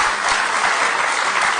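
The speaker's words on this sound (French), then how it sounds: "Oui, on peut applaudir." A crowd at an ecology party political rally in Paris breaks into applause, a thick, even burst of clapping filling the brief moment.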